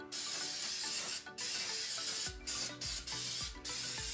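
Bursts of aerosol spray paint hissing close by as a truck brake caliper is painted, a long continuous spray followed by several short, quick blasts with brief pauses between.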